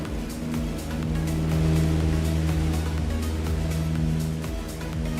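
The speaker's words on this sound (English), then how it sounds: "I'll put the engine noise up a bit." Piston engine of a Just Flight PA-28 Warrior II light aircraft in Microsoft Flight Simulator 2024, a steady droning hum with layered tonal harmonics and a regular pulsing beat, swelling slightly in the middle and staying loud and continuous.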